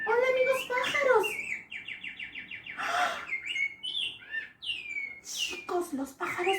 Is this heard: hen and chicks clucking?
no